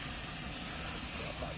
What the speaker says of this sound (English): look at that guy, it's frying up nice.